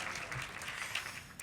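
Faint, distant applause from a luncheon audience, a soft continuous patter of clapping heard briefly at a low level.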